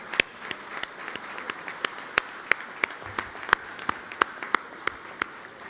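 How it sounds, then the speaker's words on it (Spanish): An audience at a marketing association event in Uruguay claps in unison: sharp, regularly spaced claps roughly three per second over a low room hum, fairly close and crisp. "Así que aplaudamos todos que estamos acá."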